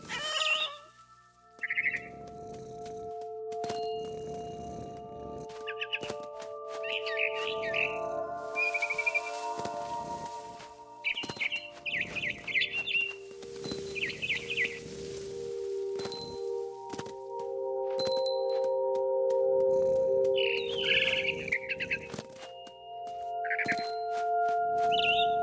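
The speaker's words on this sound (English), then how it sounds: "Then I heard chirping outside my window. It was a barn swallow going back to her nest." A barn swallow chirps in the video game What Remains of Edith Finch: bright, quick twittering bursts scattered over sustained musical tones, soft thuds and clicks, recurring throughout.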